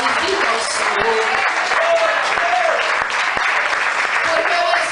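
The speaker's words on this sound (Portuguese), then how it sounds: "As palmas para o teu Deus." A church congregation claps steadily and densely through the whole stretch, with voices and singing faintly mixed in under the applause.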